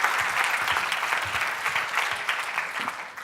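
Audience applause at a learning technology conference session, steady sustained clapping from a crowd for several seconds with no speech over it.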